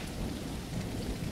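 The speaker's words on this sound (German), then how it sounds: "Also irgendwas ist mit diesem Spiel, dass immer, wenn ich es anmache, dann es einfach regnet." Rain falling in the survival game Tribe: Primitive Builder, a dense, steady wash of downpour with a low rumbling undertone, continuous and close, no voices.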